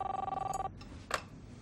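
A telephone rings in the video game Life is Strange with a fast, steady electronic trill that cuts off abruptly, followed by a brief click as it is picked up.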